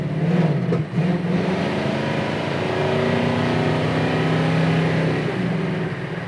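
A 1967 Chevrolet Camaro engine accelerates on an open road under light throttle, a loud continuous drone that holds steady and rises slightly in pitch, with constant road and wind noise around it.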